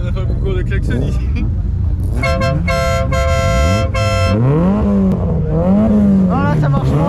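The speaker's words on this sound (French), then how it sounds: "On a fait un concours de klaxon ici." Vintage car horns honk loudly in quick succession at a classic car gathering on the Montlhéry circuit, with sustained multi-tone blasts and a rising, wavering horn note, while people talk and exclaim over them close by.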